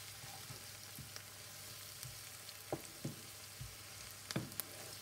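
Onion frying in a pan for a vegan aubergine curry, a soft steady sizzle with a few scattered taps and clicks of the utensil, quiet and close with no voices.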